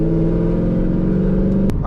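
A straight-piped 1997–2004 Corvette C5 engine holding a deep, steady, rumbling drone up close, with a brief sharp click near the end.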